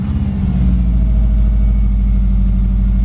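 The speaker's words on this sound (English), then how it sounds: "So we're about to start the engine for the first time." A Subaru WRX with a replacement engine starts for the first time, catching almost at once and settling into a loud, steady, low engine rumble close by.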